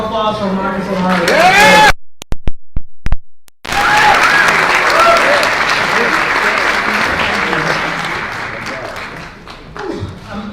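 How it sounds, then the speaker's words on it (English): An audience at a Black History program claps loudly and steadily, breaks off briefly after two seconds, then returns as sustained applause. The clapping tapers toward the end, and a few voices and whoops mix in. "Another round of applause for Marcus Omari."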